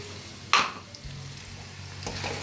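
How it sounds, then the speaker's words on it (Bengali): Water splashed into browned onion masala in a hot pan, one sharp hiss and sizzle that quickly settles into a low simmering crackle, followed by a faint second stir. "এবার আমি একটু জল দিয়ে দেবো এর মধ্যে, যাতে মশলাটা নিচে লেগে না যায়।"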